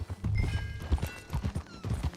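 Horse hooves clip-clopping in Red Dead Redemption 2, a quick rhythmic run of close, crisp hoofbeats with a brief whinny-like tone and faint talk behind.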